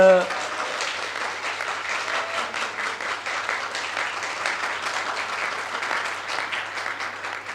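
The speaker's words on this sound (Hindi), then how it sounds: "तालियों के ज़रिए ये तो पता चल गया कि आप लोग तैयार हैं" An audience applauds at a matrimonial meet convention in Abu Road, Rajasthan. The sustained, dense clapping from a large crowd fills the whole stretch at steady volume, with a voice heard briefly at the start.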